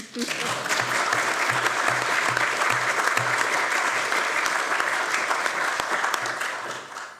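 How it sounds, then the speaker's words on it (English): A round of applause rises from a council meeting audience, steady dense clapping for several seconds with a low rhythmic thumping underneath, fading slightly at the end. "You can give her a round of applause."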